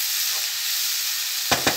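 Peppers fry in a pan with a constant close hiss and sizzle, ending with two quick clinks.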